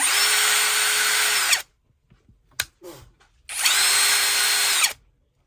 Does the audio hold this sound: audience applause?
no